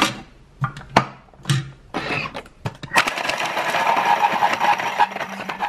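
A blender purees frozen fruit with yogurt into ice cream, starting with a few knocks and short bursts, then settling into a loud, steady, grinding whir that runs to the end.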